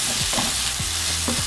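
Vegan chili with tomato paste being stirred in a hot pan gives a loud, close sizzle broken by several scraping strokes of the spoon in a quick, uneven rhythm.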